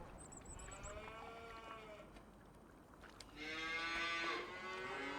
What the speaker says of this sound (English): So I've got 60 cows.